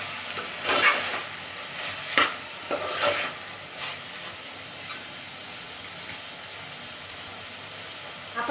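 Malvani chicken being stirred and sautéed in a pan, giving a soft steady sizzle with several louder scraping stirs early on, close and without talk.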